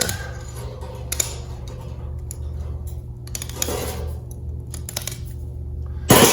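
Shears snipping through material for a tiny fire pit kit, a series of sharp crisp cuts at irregular intervals, close by, over a low steady background hum.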